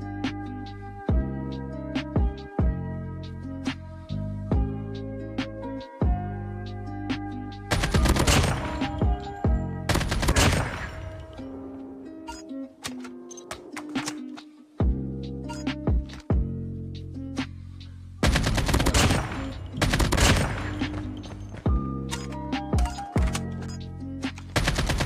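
Bursts of weapon fire in Call of Duty gameplay, with rapid automatic volleys and sharp single shots crackling loudly over a steady tonal music bed, clustering in dense stretches with brief quieter gaps between.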